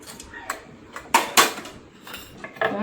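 Chicken being mixed with green chillies, chilli powder, turmeric and pepper in a bowl, heard as irregular close clinks and scrapes of a spoon against the dish with a couple of louder knocks.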